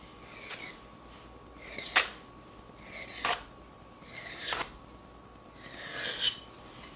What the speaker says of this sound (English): Take you a knife, cut it into some strips.